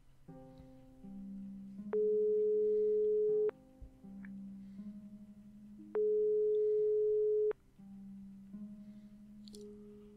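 An unanswered phone call tone rings in the video game Broken Sword 5: The Serpent's Curse. Two long, steady electronic tone bursts, each about a second and a half, sound over soft background game music with lower sustained notes.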